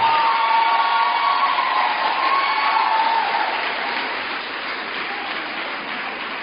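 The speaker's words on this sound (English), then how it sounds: "give her the clap as she comes" A crowd at an event in Greater Accra claps steadily and densely for a speaker's arrival, and the applause fades slightly toward the end.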